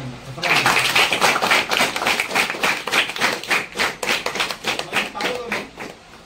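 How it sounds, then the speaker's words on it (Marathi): An audience applauds steadily, a dense patter of clapping that swells quickly and carries on for several seconds before tapering off. "छान टाळ्या घ्या का"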